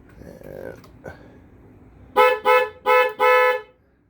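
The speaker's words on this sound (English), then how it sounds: "Ooh, that's a cool sounding horn." Horn of a 2008 Yamaha VStar Raider 1900 chopper, sounded in four short loud blasts after a couple of quieter clicks, clear and close in a quiet setting.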